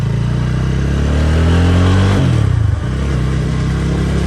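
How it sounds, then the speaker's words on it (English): A Loncin GP 165R motorcycle's single engine revs up in a rising whine, holds near its peak, then drops sharply and settles back to a steady run, loud and close with no talk. "it gives me that Bajaj engine feel where the more you twist, the more power it lets out"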